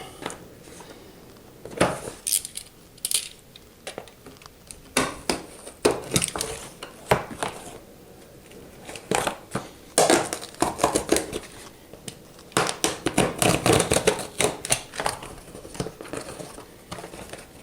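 A blade cuts a vent opening through a floor uncoupling membrane near a wall, making irregular close scraping, crinkling and snapping sounds in bursts of varying loudness, with no talk.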